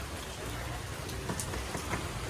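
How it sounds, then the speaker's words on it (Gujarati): Rain falling in a steady, dense hiss with scattered drop taps, continuous and fairly soft throughout. "પછી વરસાદ ચાલુ થયો"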